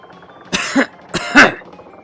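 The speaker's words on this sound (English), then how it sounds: "Pretty decent cough sound." Two short, harsh coughs about half a second apart, close and fairly loud, with nothing else heard around them.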